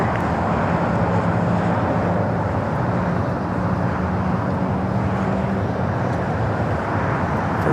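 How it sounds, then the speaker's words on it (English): A Japan Airlines Boeing 787 Dreamliner departs LAX for Tokyo Narita. It is heard as a continuous broadband jet roar at moderate distance, steady for several seconds and then easing slightly. "Also have that Japan Dreamliner heading back to Tokyo Narita."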